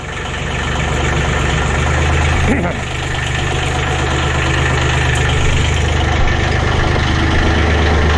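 A subcompact tractor engine runs at a loud, steady idle with a low, even knock while the bucket is lifted, holding nearly constant close up throughout with a brief clank near the middle.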